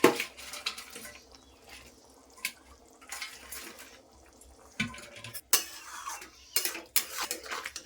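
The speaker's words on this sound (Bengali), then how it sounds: "আমি যে বড়াগুলি ভেজে রাখছিলাম ওগুলি আমি ছেড়ে দিচ্ছি" Fried lentil fritters are dropped into a simmering home-cooked curry in a metal pot, giving scattered soft splashes, clinks and clatters of the pot and spoon with quiet gaps between them.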